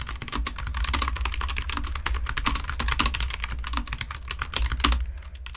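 Rapid, continuous typing on a tactile mechanical keyboard, dense thocky keystrokes close up, with a brief pause just before it stops.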